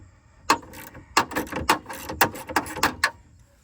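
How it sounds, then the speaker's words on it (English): Clicks from a wrench loosening 10 mm bolts that clamp the window into a 1999–2006 GMT 800 truck's window assembly: a close series of sharp, irregular mechanical ticks over about three seconds. "You're gonna have a 10 mil bolt over here you need to loosen."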